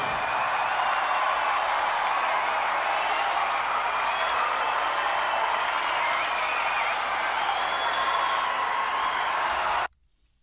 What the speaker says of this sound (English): Is this really 40 more seconds of crowd cheering and whatnot?